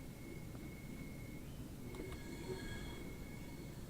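A train rolls steadily past in the Train Sim World 2 video game on the Southeastern High Speed route, a dense continuous rumble with thin tonal wheel squeals drifting over it throughout.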